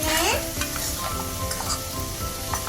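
Chicken frying in a pan with tomato is stirred, producing a dense, loud sizzle with a quick scrape at the start and soft utensil clinks, brief and close, no speech.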